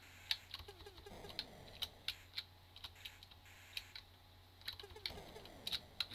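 Fingers hammer quickly at computer keyboard keys while a Commodore 64 game of Thrust is played, giving sharp, irregular clacks that come close-miked but quiet over a faint steady hum.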